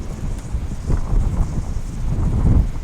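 Strong wind buffets the microphone in low, rumbling gusts that swell and ease throughout, loud and close.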